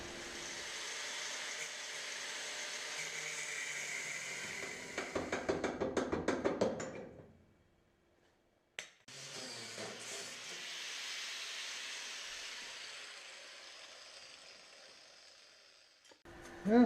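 Angle grinder cutting metal during welding work on a Sport Quattro replica drivetrain mount, a harsh sustained hiss and grind in long bursts, broken by a pause near the middle, then resuming.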